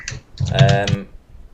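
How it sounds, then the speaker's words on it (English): Hard, heavy typing on a computer keyboard during a live online panel show, with clicks running steadily beneath a voice that dominates the foreground. "Damn, you're typing hard, man."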